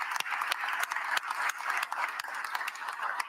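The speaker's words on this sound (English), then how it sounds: "let's give the Eagles organization another round of applause" A crowd at a civic event for the Philadelphia Eagles claps and cheers, a continuous dense wash of applause heard from some distance.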